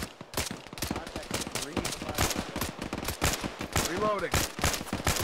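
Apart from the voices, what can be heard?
gunfire in ArmA 3 video game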